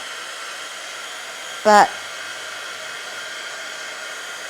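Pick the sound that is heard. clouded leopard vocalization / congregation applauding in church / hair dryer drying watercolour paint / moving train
hair dryer drying watercolour paint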